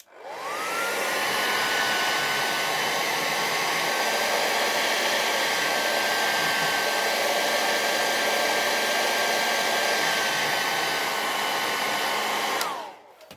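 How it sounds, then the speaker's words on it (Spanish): A hair dryer blows steadily and loudly at close range while drying a patch repair, switching on with a rising whine, holding one even roar for about twelve seconds, then cutting off. "Vamos a secar un poquito para que adelantar el proceso."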